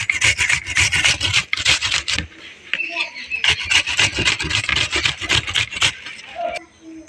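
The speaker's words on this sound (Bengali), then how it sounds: "এভাবে করে পেঁয়াজটাকে আমি গ্রেট করে নিলাম" Onion being grated on the coarse side of a grater in a home kitchen: loud, rhythmic rasping strokes in quick succession, close up, with a short pause midway before the scraping resumes.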